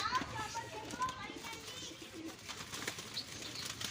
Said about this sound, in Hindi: नर में ये पुराना नस्ल, पुरानी चालों का कबूतर है।